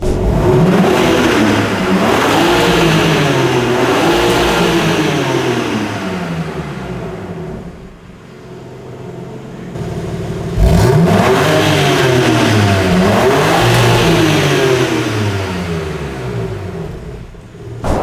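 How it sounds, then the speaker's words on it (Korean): A BMW M3 Competition's exhaust revving loudly up and down in repeated surges, rising and falling in pitch, with a brief lull before a sharp crackling blip and another rev. "저희 배기음 들어야죠"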